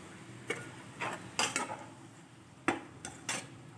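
Fried lentil dumplings (bori) tumbling into a pan of mourala fish curry give several light clinks and knocks against the metal, spaced out over a few seconds with quiet in between and no talking.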